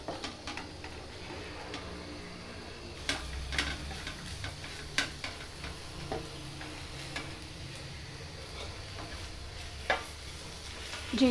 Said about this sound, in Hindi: अब हम इनको मिक्स करेंगे।